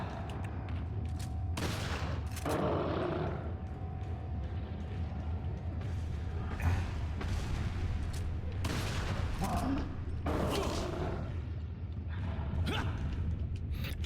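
Intermittent gunfire bursts from the Resident Evil 4 video game, several sharp shots spaced through a boss fight over a low steady game background.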